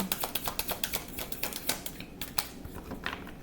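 Rapid, crisp flicking and riffling of tarot cards shuffled up close, a steady stream of small papery clicks that softens near the end.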